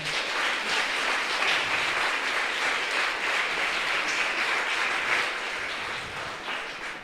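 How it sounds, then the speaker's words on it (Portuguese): A church congregation applauds the Lord together, a dense, steady wash of many hands clapping that fills the room for the whole stretch, easing off slightly near the end. "Você pode aplaudir o Senhor?"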